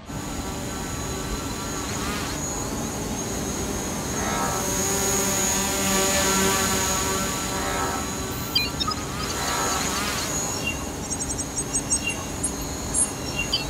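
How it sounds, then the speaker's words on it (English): A drone flies over a factory production line on a reconnaissance pass, giving a continuous whirring hum whose pitch slowly swells and eases. Faint clicks and ticks are heard near the end. "I'm going to start the drone."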